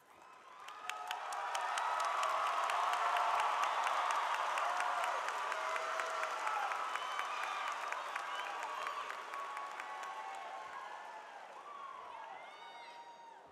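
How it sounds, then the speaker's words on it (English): An audience at a high school graduation ceremony bursts into applause and cheering, a broad wash of many clapping hands and shouts that swells quickly, holds loud for several seconds and slowly tapers, with scattered whoops heard from a distance. "please hold your applause and cheers until the end of the row"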